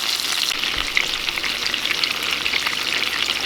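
Butter melting in a pan with chicken gives off a steady, bright sizzle and crackle, with a few soft scrapes and bumps of the pan, alone and fairly close.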